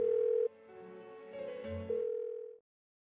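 Unanswered phone call in the video game Persona 4 Golden: a steady electronic tone that shifts into a wavering ringback pattern before cutting off into silence, heard alone.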